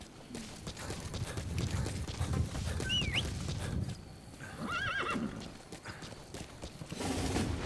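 A horse in Metal Gear Solid V: The Phantom Pain moves with rhythmic hoof clip-clops over rumbling game ambience, giving two short whinnies partway through.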